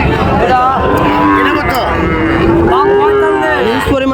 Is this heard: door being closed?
no